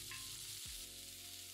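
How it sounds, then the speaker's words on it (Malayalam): Dried red chillies and chopped onion hit hot coconut oil with popped mustard seeds for a Kerala-style vanpayar thoran, giving a close, steady sizzle throughout with a brief stir partway through. "പിന്നെ 3 വറ്റൽമുളക്, 1 സവാള ചെറുതായിട്ട് അരിഞ്ഞത്,"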